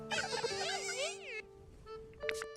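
Small bees in a video game give off buzzy, wavering tones that rise and fall over a steady drone, fairly faint, broken by a short pause and a few brighter chimes near the end.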